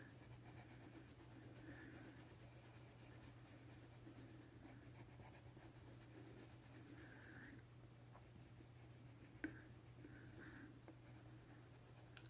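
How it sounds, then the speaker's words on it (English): Soft, quiet scratching of coloured pencils on paper continues in gentle strokes, faint and close, over a low steady hum. "these pencils are just, as you can see, they just blend effortlessly"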